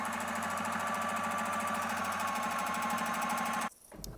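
A sewing machine runs steadily while top stitching a fabric face mask, its fast even motor rhythm loud and close and continuing without a break before cutting off abruptly near the end.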